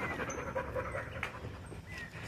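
A small dog pants rapidly and steadily close by, soft quick breaths with faint chirps, no speech over it.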